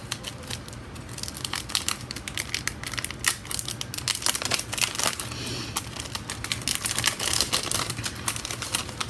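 Subscription box package being opened up close, with steady crinkling and rustling of wrapping, crisp tearing and scattered sharp clicks throughout, fairly quiet overall.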